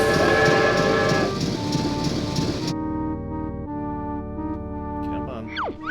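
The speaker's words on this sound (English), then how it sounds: "I heard the train arrive." A train pulls into a station in the video game Banjo-Tooie, with rumbling wheels and harmonic horn-like tones loud at first, then cutting to a steadier sustained chug and whistle tones toward the end.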